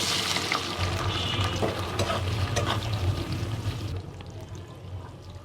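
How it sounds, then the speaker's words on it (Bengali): Onions frying in a pan on a stove give a loud, dense sizzle with light clatter, then drop to a quieter, duller bubbling in the last second or so. "আমি পেঁয়াজ দিয়ে দিলাম চুলোয়"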